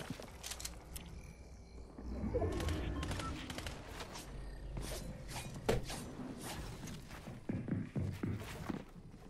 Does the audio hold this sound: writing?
no